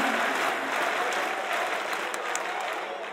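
Esports arena crowd at a CS:GO match between Ninjas in Pyjamas and Astralis on Nuke in Stockholm, applauding and cheering after a clutch play: dense, sustained roar of clapping that fills the space and fades slightly toward the end.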